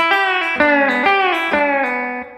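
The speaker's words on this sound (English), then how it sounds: "a cool little effect with your left hand, which is bouncing the bar" A sustained pedal steel guitar chord repeatedly swells and bends down in pitch as the bar bounces on the strings every half second, ringing alone.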